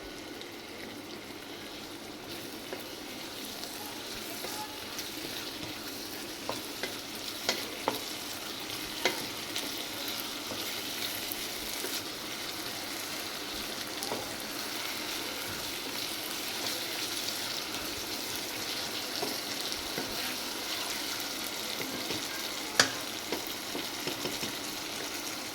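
Chillies frying in hot oil in a pan on full flame for a Punjabi vegetable gravy, a steady close sizzle with scattered light scrapes and clicks of stirring throughout.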